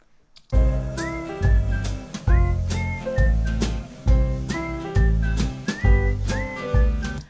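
Music plays with regular punchy drum hits, the kick without a layered sample, under a bright, whistle-like lead melody, the beat repeating steadily for several bars.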